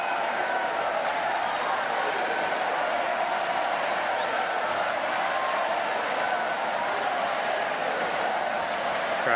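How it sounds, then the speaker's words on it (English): A crowd at a Paris 2024 Paralympic goalball match cheers on the French team with a steady, dense roar of voices and applause, holding at an even level throughout without pauses. "Crowd taking any opportunity to spur on this French team."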